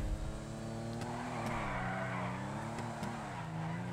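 A Coquette Classic, styled on the Corvette Stingray, drifts in GTA 5. Its engine revs and wavers with faint tire squeal, up close and steady for a few seconds, with no voices.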